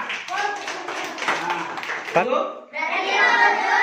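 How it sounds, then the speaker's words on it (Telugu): Schoolchildren at a tribal school birthday celebration clap together in a burst near the end, following a stretch of a children's voices and lively talk. "అందరూ కూడా చప్పట్లతో ఆశీర్వాదం కోరుకుంటున్నారా"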